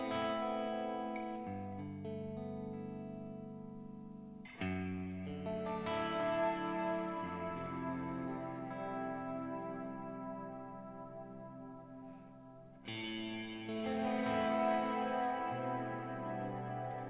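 Electric guitar chords played through a Neunaber Illumine reverb pedal set to a large, spacious reverb, sustained notes washing and overlapping with long tails across a steady, moderately loud passage with no talking.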